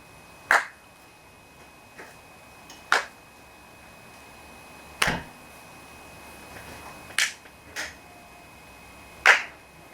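Sharp isolated hand claps at irregular intervals, six or so over several seconds with silence between, during a clowning movement game for children.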